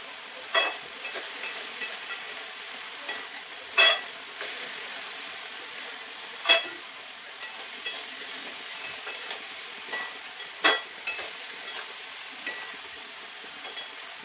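Pui shak (Malabar spinach) stir-frying with salt and turmeric in a pan gives a soft, steady sizzle, broken by scattered sharp clinks and scrapes of the spatula at irregular intervals, with no voices.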